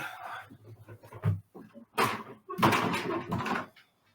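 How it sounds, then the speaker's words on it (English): A door being shut in a home, a solid thud with a brief rattle, close by amid people talking. "let me close my door real quick"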